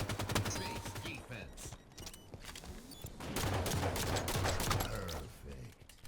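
Gunfire in the video game Halo 5 cracks out in rapid bursts of sharp shots, some in quick succession like automatic fire, close and loud, with mechanical clicks between.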